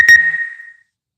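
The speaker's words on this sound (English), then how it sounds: "Somebody's messaged me. And that goes off." A phone message notification sounds once: a single short, clear electronic chime, close and fairly loud, fading out within about a second with no talk over it.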